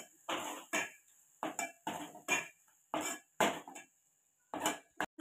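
A spoon scrapes and knocks against a pan as masala paste roasts in oil, in short separate strokes with pauses between them, close and fairly quiet.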